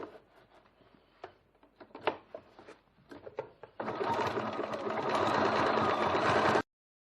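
Sewing machine running a zigzag stitch on a bowler bag, first a few short taps and starts, then a sustained fast mechanical whir for several seconds that stops abruptly, close by.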